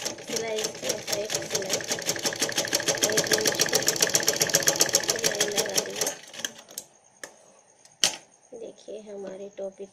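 A sewing machine stitches a newborn baby's cap in a fast, steady mechanical rattle for about six seconds, then stops. Someone talks over the run and keeps speaking afterward, with a sharp click near the end.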